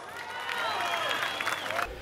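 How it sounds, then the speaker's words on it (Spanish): An outdoor crowd in a town's main square during a river festival applauds the winning parranda music group, with a steady wash of clapping and cheers that swells slightly midway and then ends abruptly. "Un aplauso para ellos."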